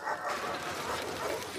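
A dog whimpers and yips softly in The Last of Us Part II, a faint, brief canine sound over a steady game-ambience background with no talking.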